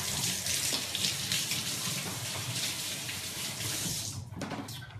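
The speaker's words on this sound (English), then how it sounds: "I'm gonna wash my hands off again real quick." Hands are washed under a kitchen faucet. Water runs in a steady, close gush, then cuts off near the end, leaving a few drips and small clatters.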